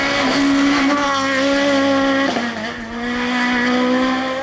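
Peugeot 306 Maxi race car at a hillclimb on Galician tarmac, its engine howling loud and close in a sustained high rev, pitch rising and dipping briefly with a gear change before climbing again, no voices.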